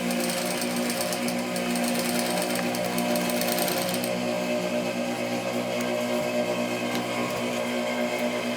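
A sewing machine running a reinforcing seam produces a loud, continuous, fast mechanical hum and rattle close by, holding steady throughout with a slight change in tone partway through.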